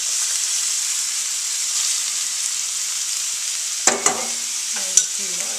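Julienned mixed vegetables hiss and sizzle steadily in a hot pan, a bright continuous fry, broken near the end by a few clanks and scrapes as more go in.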